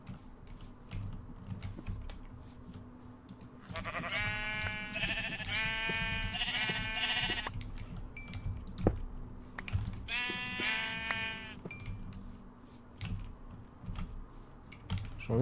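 Sheep in Minecraft bleat in several wavering bursts over steady keyboard typing and clicking, fairly close and moderately loud, with no talking.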